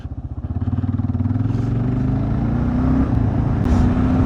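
KLR650 motorcycle ridden along a hard-packed rainforest track in Conondale National Park, its engine loud and close, a pulsing thump that rises into a steady drone as it pulls along.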